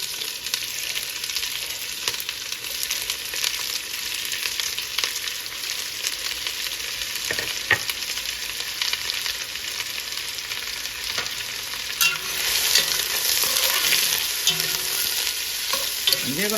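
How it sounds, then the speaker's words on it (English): Sliced onions hit reused hot oil for a Kashmiri mutton yakhni pulao, giving a loud, steady, close sizzle that holds throughout and swells slightly near the end, with no voices. "we are going to use the same oil to fry off our onions"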